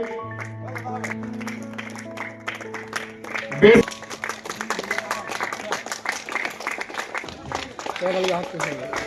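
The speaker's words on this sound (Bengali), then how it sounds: "একটু যদি হাততালি হোক" An audience at a cricket tournament ceremony claps in scattered, rapid bursts under a speaker talking over a microphone.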